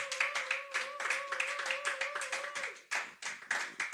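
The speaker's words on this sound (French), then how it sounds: "Vous acclamez pour moi, j'ai dit qu'on acclame pour nos enfants" A church congregation applauding for the children, rapid steady clapping from many hands filling the room, with a sung or sustained voice tone running underneath for most of the stretch.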